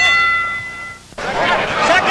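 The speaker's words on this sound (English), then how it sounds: "You'll hear the bell in 5 seconds." Round bell rung at a 1978 professional boxing match at Caesars Palace, a single bright ring followed by a burst of crowd noise and an announcer talking.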